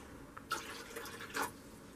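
Filtered water poured into the tank of a Siemens EQ.300 automatic coffee machine during descaling, two short splashing bursts close by over a quiet background.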